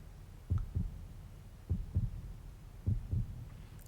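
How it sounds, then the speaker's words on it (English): Heartbeat sound effect from the video game 428: Shibuya Scramble: three slow double thumps, low and muffled, evenly spaced over a quiet hum. "she could feel a heartbeat, steady and strong"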